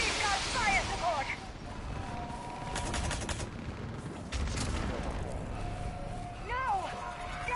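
Gunfire and fire support in the video game Mass Effect 3: rapid crackling shots and bursts from several weapons, loud and continuous over a busy battle din, with sharper volleys in the middle and electronic chirps near the end.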